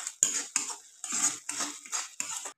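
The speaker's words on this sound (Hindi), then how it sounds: "अब इनको आपस में मिला के थोड़ी देर फ्राई कर लेंगे" A spoon scrapes and stirs masala with coriander powder as it fries in a pan: about six distinct clattering strokes in an uneven rhythm, close and moderately loud, with no talking.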